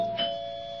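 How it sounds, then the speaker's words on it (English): A doorbell rings with a clear two-tone chime in a radio mystery drama, one bright ring that fades out quietly and stands alone with no talking. "Doorbell."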